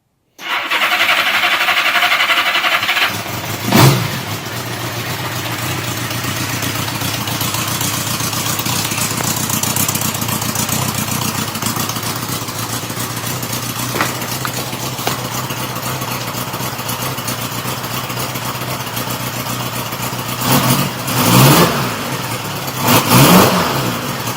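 A Honda GL1000 motorcycle with a front fairing cranks and starts, then idles steadily for a long stretch before a few short revs near the end, heard close and clear.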